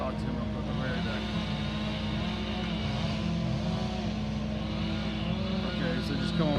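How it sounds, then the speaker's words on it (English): A leaf blower on a tree removal and site clearing job drones loudly and steadily throughout, with people talking over it. "I got the blower."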